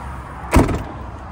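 Tailgate of a VW California Ocean campervan with DSG gearbox pulling shut on its soft-close mechanism, a single short muffled thud with a brief whirring latch action, close by, no speech.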